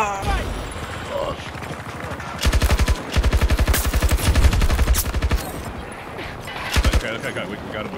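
Rapid automatic gunfire bursts from Battlefield 2042, loud close-range rattling volleys in several strings over game ambience, with a player voice talking briefly.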